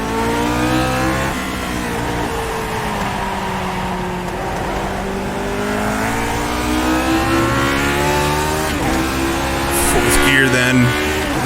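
A Lotus 49 race car in iRacing at Okayama howls through its gears, the engine note climbing steadily in pitch with quick drops at each upshift, loud and close with continuous onboard roar and brief tyre noise.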